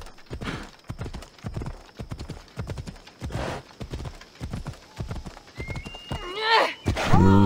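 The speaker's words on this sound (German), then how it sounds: "Also das Galoppieren sieht bei ihr ein bisschen steif aus." Horse galloping in the video game Assassin's Creed Odyssey. Rhythmic hoofbeats pound steadily at close range, and a loud whinny rises near the end.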